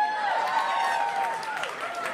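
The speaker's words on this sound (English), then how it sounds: "Anybody in here racist by round of applause?" A comedy club audience gives a short burst of scattered applause and crowd murmur, filling the room at moderate loudness with voices mixed in.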